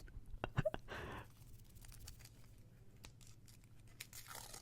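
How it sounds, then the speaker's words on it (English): An onion being peeled by hand in a quiet ASMR setting, with a few close, crisp tearing and crinkling sounds early on that fade into soft, faint rustles. "They also have her peeling an onion for some reason."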